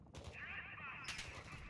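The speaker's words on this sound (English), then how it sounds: "There's gunshots from back here." Gunfire rings out in the DMZ shooter game on Ashika Island, a burst of distant-sounding shots cracking over a steady ambient rumble, followed by a second sharp volley a moment later.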